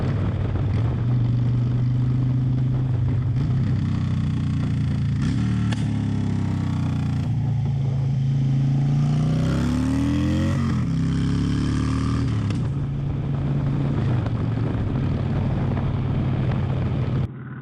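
Motorcycle engine cruising steadily in 5th gear, a continuous loud droning hum with shifting pitch and wind rush throughout.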